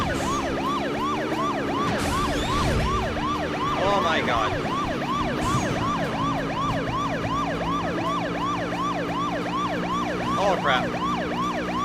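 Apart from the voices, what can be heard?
police car siren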